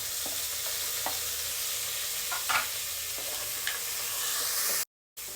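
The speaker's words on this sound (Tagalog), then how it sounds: "Gisa lang natin yung kamatis hanggang sa lumambot ito." Tomatoes sauté in a pan with onion for a patola, misua and shrimp dish, giving a soft, steady sizzle marked by occasional stirring knocks and a brief dropout near the end, with no voices.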